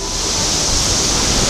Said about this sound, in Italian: guarda che spruzzate di acqua che arrivano